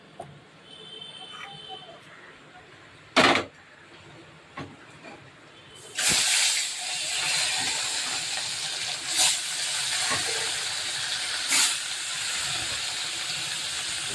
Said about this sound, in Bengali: মাছগুলো ভাজতে বসিয়ে দিলাম